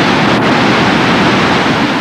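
Flash flood in a desert river channel, a deep, torrential roar of rushing water, loud and continuous with no pauses.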